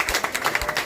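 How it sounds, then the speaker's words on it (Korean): Brief applause at a press conference for a presidential campaign in Yeongdeungpo, Seoul: a short burst of quick, overlapping hand claps from a small crowd, fairly close, with no talk. "큰 박수"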